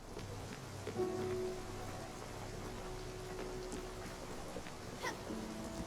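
Steady rain in the game Spiritfarer patters across a surface with a soft continuous hiss, a few faint tones ringing through in the background.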